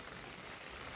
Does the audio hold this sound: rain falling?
yes